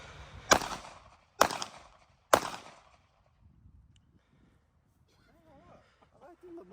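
Three loud, sharp shots from a Glock 19X pistol fired outdoors, spaced about a second apart, followed by quiet and a voice.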